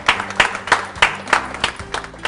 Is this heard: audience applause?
yes